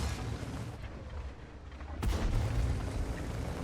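A single heavy cannon shot from a T-100 LT light tank in World of Tanks, a sudden loud boom that breaks out of a low rumbling battlefield background and leaves a sustained roar afterward.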